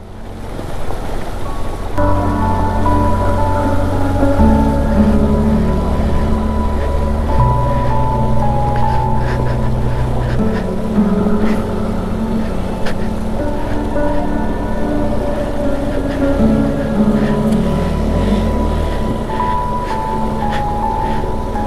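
A luggage-laden motorcycle rides through a rough water crossing, its engine droning loud and steady for the whole stretch while water churns and splashes around it.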